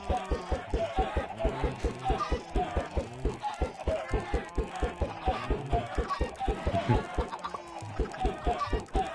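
Chickens in the Minecraft video game cluck steadily, a dense run of short repeated clucks that keeps going without a break at a fairly even loudness.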